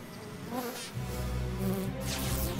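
Bees buzz in a video game, a soft continuous insect drone that swells slightly after the first second and holds steady at low volume.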